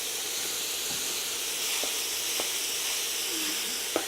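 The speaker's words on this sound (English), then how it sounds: "So we're just going to brown up our meat and then add our seasoning," Ground chuck browns in a pan for homemade enchiladas, giving a steady hissing sizzle close by with a few faint clicks and scrapes, and no voices.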